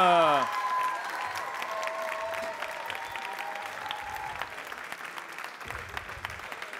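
An audience applauds after a barista's competition presentation at World Barista France: dense, steady clapping from a crowd that continues throughout, with a brief tonal voice-like sound at the very start.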